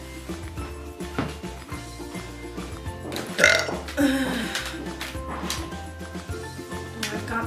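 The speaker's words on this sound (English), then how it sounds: "Well, I've got some burps from that dog treat." A person lets out a couple of loud, gurgling burps after eating a dog treat, close and sudden over a background of steady music.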